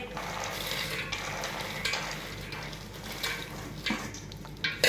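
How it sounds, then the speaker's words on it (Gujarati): Roasted peanuts being stirred in a pan while making chevdo, a steady gritty scraping and rustling with soft clinks against the pan, close and moderately quiet. "બધા દાણા જો આપણે સરસ મજાના મિક્સ કરી દીધા"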